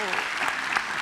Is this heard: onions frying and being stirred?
no